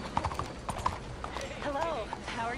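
Horse hooves clip-clopping at a walk in the video game Red Dead Redemption 2, close and rhythmic, followed by a short whinny, with someone speaking French over it.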